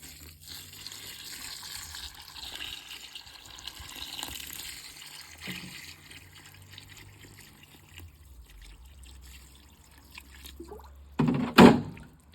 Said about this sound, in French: Du coup on lui met de l'eau.